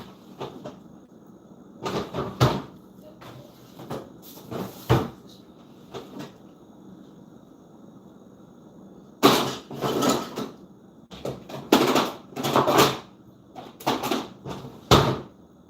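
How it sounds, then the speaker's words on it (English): Kitchen items are put away into cupboards and drawers, with a series of wooden knocks, slides and thumps coming in bursts between quiet pauses, close and fairly loud, no talk. "But I'll put these up in the drawer for next time."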